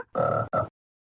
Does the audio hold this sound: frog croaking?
yes